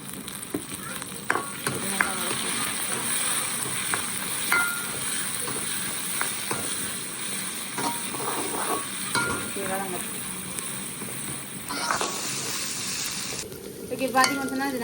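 Onions, green chilies and curry leaves sauté in a pan with a continuous crackling sizzle, broken by frequent scraping and clinking of a stirring spoon against the pan, close and moderately loud.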